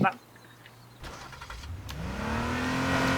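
Car engine revving up and accelerating in the game H1Z1 King of the Kill, a rising drone that grows louder after a brief start, with people talking over it.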